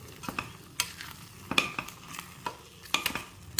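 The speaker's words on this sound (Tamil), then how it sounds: "இப்போ தாளித்ததை நம்ம இதில் சேர்த்துட்டோம் இப்போ இதை கலந்து விடும்" A spoon mixes freshly fried tempering into sambar rice in a pot. Irregular scraping strokes and metal clinks repeat over a faint lingering sizzle.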